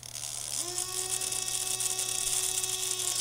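A small RC servo motor whirs continuously with a thin, steady tonal whine that rises at the start, over a constant low electrical hum.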